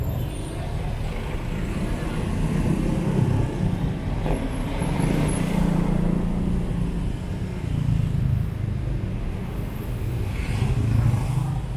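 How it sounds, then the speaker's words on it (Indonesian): A large truck passing on a city road in Manado, Indonesia, its low engine rumble rising and falling amid continuous traffic noise, fairly close and steady. "ada truk besar, kita harus menyingkir"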